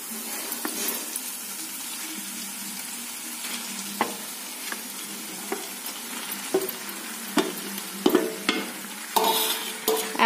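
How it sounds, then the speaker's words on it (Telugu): Prawns fry in a curry pan with a continuous sizzle, while a spoon stirs and scrapes against the pan in repeated sharp knocks that grow busier toward the end. "సో ఇప్పుడు మన ప్రాన్స్ ఏవైతే మనం ఆల్రెడీ కలుపుకొని ఉంచుకున్నామో అవి ఇందులోకి యాడ్ చేసుకుందాం"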